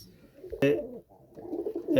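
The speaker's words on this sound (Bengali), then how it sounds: "এই দেখেন কবুতর" A pigeon gives a low, throaty coo at close range, followed by a sharp flutter or click and then more soft cooing that swells toward the end.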